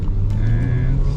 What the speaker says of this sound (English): speed up to 20 and do a sudden stop